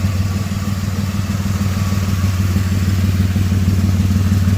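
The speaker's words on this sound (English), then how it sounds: "There is an exhaust leak" An engine with an exhaust leak idles steadily close by, giving a loud, constant low drone with a faint ticking rattle over it.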